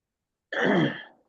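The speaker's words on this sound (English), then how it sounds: "I'm sorry if I keep clearing my throat" A single short throat clearing, close and fairly loud, surrounded by silence.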